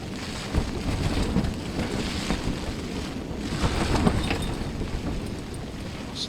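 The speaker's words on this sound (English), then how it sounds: "So windy." Strong wind gusts across an open carp fishing lake in winter, buffeting the microphone with a constant roar that rises and falls over six seconds, with no talk.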